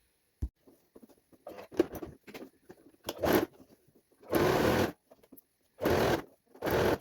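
A sewing machine stitches the neckline of an Ankara fabric top in several short and longer bursts separated by pauses, with fabric handling and small clicks between runs; nearby and fairly quiet, with no talking.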